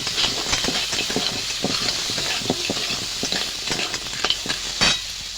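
Crab brains sizzle and fry in a hot pan of crab curry, with steady crackling hiss broken by repeated stirring scrapes and clatters, close and continuous, no talking.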